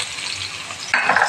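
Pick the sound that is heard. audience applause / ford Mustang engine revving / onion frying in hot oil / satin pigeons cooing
onion frying in hot oil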